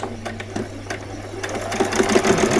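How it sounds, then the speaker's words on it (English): Sewing machine stitching vet scrubs, running a few short stitches and then a back stitch, a rapid mechanical whirring at close range that rises slightly in pace toward the end. "go on a little few stitches and then do a back stitch"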